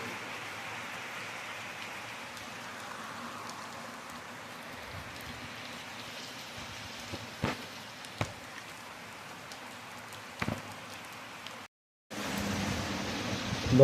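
Steady heavy rain pours down as a dense, even hiss, broken by a few sharp knocks and a brief dropout before it resumes louder near the end.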